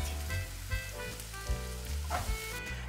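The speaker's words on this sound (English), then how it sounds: "now that we have slightly pan fried the zucchini" Sliced courgette sizzles in a frying pan while vegan carbonara is being made, a steady low crackle with occasional soft knocks of stirring and a faint background hum.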